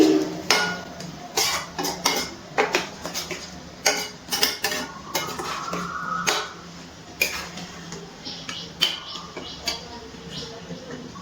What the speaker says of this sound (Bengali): এবার খুব ভালো করে মিশিয়ে নিচ্ছি।